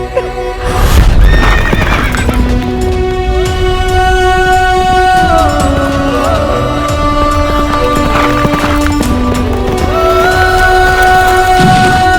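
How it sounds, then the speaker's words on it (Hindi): A horse neighs and hooves clip-clop within a dramatic period television episode about Peshwa Bajirao, mostly buried under loud continuous orchestral music. "ये घोड़ा हमारे बेटे खंडेराव का था"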